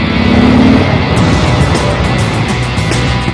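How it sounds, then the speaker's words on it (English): An Indian motorcycle with a Thunderstroke V-twin engine accelerates, a loud, deep, steady engine drone with a rising pitch, close and continuous throughout with no voices. "The Thunderstroke motor is potent yet oh so polished"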